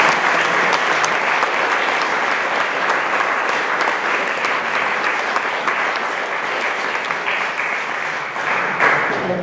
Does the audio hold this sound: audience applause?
yes